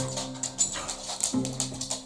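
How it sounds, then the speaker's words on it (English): Two dogs named Oscar and Bruce playing close by, giving short whimpers, yips and scuffling sounds over a steady low hum. "The dogs are playing."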